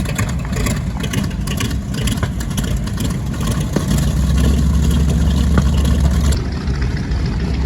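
The engines of a B-25J bomber drone steadily at an air show at Pappy Boyington Field in Coeur d'Alene, a loud, rumbling roar that grows heavier midway, with no talk over it.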